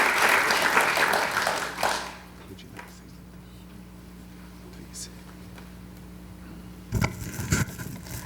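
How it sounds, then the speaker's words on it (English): An awards ceremony audience applauds for about two seconds before it cuts to near silence with a low hum and faint rustles, then a few scattered taps and shuffles return near the end. "So once again, give them a round of applause."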